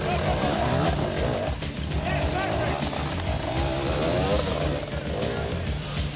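Enduro motorcycles race up a steep, slippery forest hill climb at the 2007 Red Bull Romaniacs, engines revving steadily and loudly under commentary.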